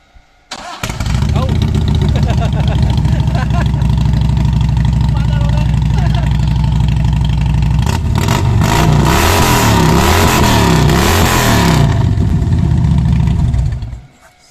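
Loud motorcycle engine with muffler exhaust at a Ronin MC Manila Philippines riders' gathering in Infanta, Pangasinan, roaring steadily and close for over ten seconds with a harsher revving stretch near the end before cutting off.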